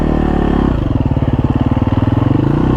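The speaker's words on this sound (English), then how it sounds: "let's see if the bike can hold, or the bridge can handle 450 pounds" Dirt bike engine idles and then chugs in a steady close rhythmic putter as the bike rolls slowly across a bridge on Little Naches Trail 945, with the thuds of the crossing.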